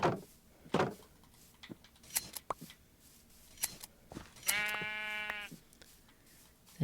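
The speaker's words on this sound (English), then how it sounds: "I'll shear the sheep, why not?" A Minecraft sheep lets out a clear, wavering bleat while snipping shearing clicks sound nearby, set among quiet game sounds with no talking.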